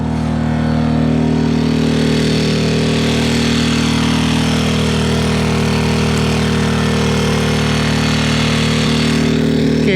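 A 2000 watt portable generator runs steadily and loudly throughout, its engine drone holding an even, constant tone with no talking over it.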